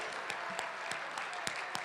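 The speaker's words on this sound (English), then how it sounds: "let's give them a round of applause" Audience applause at a work event, a brief burst of steady clapping with a few sharper claps standing out, moderately near.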